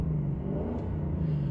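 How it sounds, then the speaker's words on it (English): Lexus LC 500 V8 engine rumbles in a deep, steady, loud drone with a faint rise in pitch, heard close up with no talking. "If you could hear it, it's just the engine, the V8."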